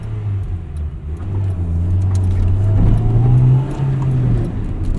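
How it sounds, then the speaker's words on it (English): A 1998 Acura Integra Type R with a manual gearbox, its engine downshifting with rev-matched blips while driving, loud and close with a steady drone that swells in pitch and then drops back. "Downshifting, rev matching, heel towing, it is just telepathic in this car."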